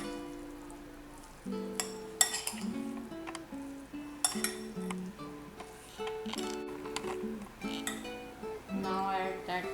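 Sweet corn chaat with chopped tomatoes is stirred in a bowl, with repeated light clinks and scrapes of a spoon against the dish, close and fairly quiet.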